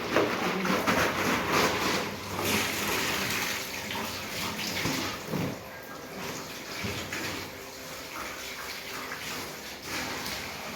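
Filtered water from a home filter gushing steadily into bottles being filled, heard close by as a continuous rushing, splashing stream with small shifts in flow.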